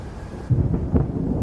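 A thunderstorm sound effect in a Bengali horror story, with a low, soft rumble that swells into a louder rolling crack of thunder partway through.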